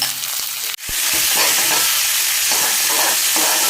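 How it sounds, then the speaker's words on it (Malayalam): Onion, green chili, ginger and garlic sautéing in a pan of hot oil: a loud, steady close sizzle after a brief clatter, with the hiss continuing throughout under occasional stirring. "സവാള ഇട്ട് കൊടുക്കാം പച്ചമുളക് ഇഞ്ചി വെളുത്തുള്ളി എല്ലാം കൂടി ഇട്ട് വഴറ്റിയെടുക്കാം"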